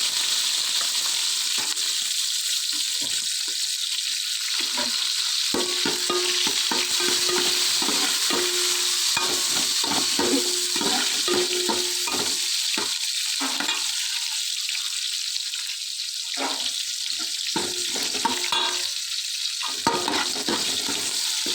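Onion, tomato and green chilli fry in a pan with a steady, loud sizzle that runs throughout, broken by intermittent stirring scrapes, with no one speaking.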